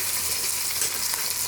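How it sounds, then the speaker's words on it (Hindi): Browned garlic and ginger fry in a pan, giving a loud, dense sizzle that stays even through the whole short stretch, with no talking. "लहसुन अदरक हमारा ब्राउन हो चुका है। अब टमाटर शामिल करेंगे।"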